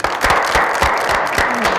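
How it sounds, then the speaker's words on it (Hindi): A talk show studio audience applauds, with a steady patter of many hands clapping close by for a couple of seconds. "सही तालियां जनाब"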